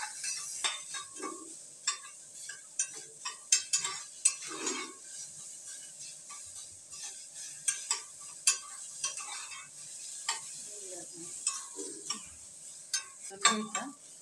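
Onion with whole spices sautéing in a pan, a gentle sizzle punctuated by repeated close spatula scrapes and clinks against the metal as it is stirred.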